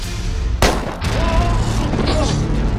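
Gunshots in a horror movie scene ring out as a sharp loud bang followed by a rumbling boom, with music and effects continuing behind.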